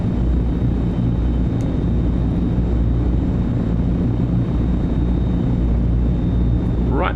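Simulated C-160 transport aircraft engines on landing approach in Microsoft Flight Simulator 2024, a steady, loud low propeller drone that holds unbroken throughout, with no voices over it.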